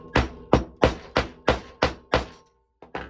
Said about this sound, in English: Find this tool and it will cover, and then get your hammer.